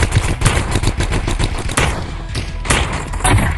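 Loud, dense gunfire from weapons in the video game Animal Arrivals, rapid automatic bursts and thumping shots packed together almost without pause, close and harsh throughout.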